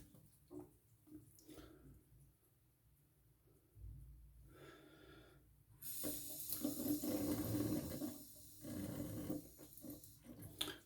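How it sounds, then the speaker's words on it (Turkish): Water from a tap runs and splashes as a safety razor is wet before a shave, starting faint and then loud and steady for the second half, close up, with no one talking. "Aletimizi ıslatalım."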